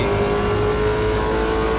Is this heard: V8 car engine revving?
yes